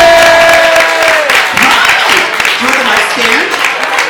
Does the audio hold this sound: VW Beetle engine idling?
no